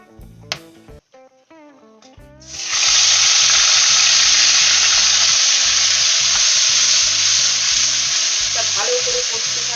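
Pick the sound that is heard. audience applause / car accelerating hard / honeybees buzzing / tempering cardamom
tempering cardamom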